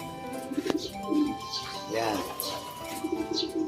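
A racing pigeon coos in soft repeated low phrases, close by and fairly quiet, with a person speaking briefly over it and faint background chirps.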